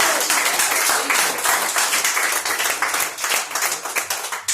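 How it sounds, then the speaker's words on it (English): Audience at a Portland, Maine tavern comedy night applauding a comedian, a burst of many hands clapping close and loud in an uneven patter that thins slightly toward the end. "I got a bigger clap."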